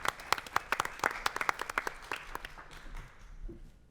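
An audience at a veterans' benefits event applauds briefly. A few sharp claps stand out over softer clapping, which fades out after about two seconds and leaves quiet room tone.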